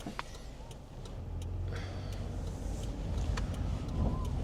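A car engine idling steadily before driving off, a low continuous rumble close by with a slight rise in level toward the end, plus a few faint clicks.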